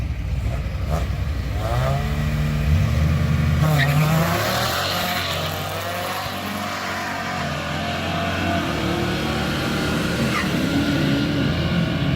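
A 2004 Honda Civic and a 1975 Chevy launch side by side on a drag strip, engines revving loud and close with tire squeal as they pull away, while a track announcer talks over the roar.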